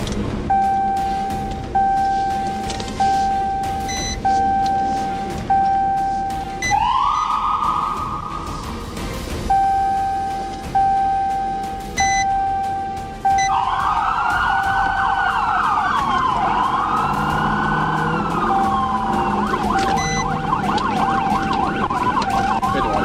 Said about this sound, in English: prompting the trooper to activate his siren and initiate a pursuit.